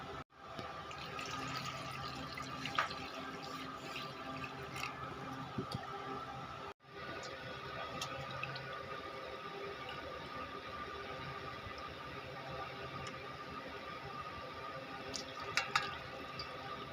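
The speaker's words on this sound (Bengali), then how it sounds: "পুঁটি মাছের ঝাল বানানোর জন্য প্রথমে মাছটিকে ভালোভাবে ধুয়ে নেব" Puti fish are washed in water with steady splashing and swishing, broken by small drips and clicks, close by and moderately quiet, with one brief gap partway through and no talking.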